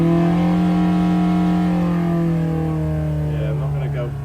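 A Hillman Imp 1200 five-bearing sand-cast engine with an experimental Climax FWH head, still short on ignition advance and blowing its exhaust, idles loud and steady with a strong even drone that eases slightly near the end.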